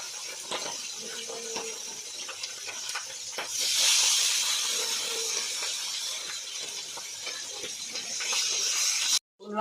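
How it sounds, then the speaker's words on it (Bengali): Turmeric-coated bata fish fries in hot mustard oil in a kadai, giving a continuous close hissing sizzle that swells louder midway and keeps crackling steadily. "তেলটা গরম হয়ে গেছে, আমি এবার হলুদ মাখানো মাছটা ঢেলে তেল দিই।"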